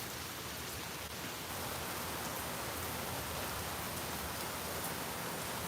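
Steady rain from a Tampa, Florida afternoon thunderstorm hisses continuously, a fairly soft, even wash of drops on surfaces with no talking.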